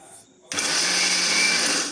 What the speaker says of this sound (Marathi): मी इथे आता हे मिक्सरला सगळं बॅटर फिरून घेणार आहे.